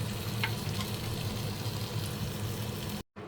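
Eggplant tempura frying in hot oil gives a steady, dense sizzle and crackle that runs nearly the whole time, then cuts off abruptly just before the end.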